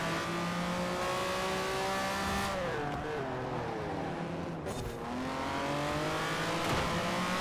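Lamborghini engine revving hard in the Forza Horizon 4 racing game, continuous and loud, with harmonics sweeping up and down through gear changes and a brief dip midway before climbing again.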